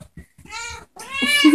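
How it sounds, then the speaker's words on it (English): Two short, high kitten meows close by, the second longer and rising, with a brief pause between them. "It's swarming with kittens."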